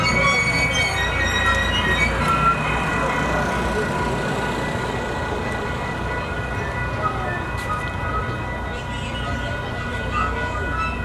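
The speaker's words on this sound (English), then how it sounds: "This is Koa's first train ride." Pineapple Express plantation train ride at Dole Plantation: a steady rumbling train with tonal whine and hum, continuous and moderately loud throughout.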